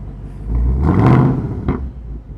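Ford Mustang Dark Horse 5.0 V8 blips once from remote start with nobody inside, a single loud close rev swelling and fading over about a second, followed by a short sharp burst and settling rumble.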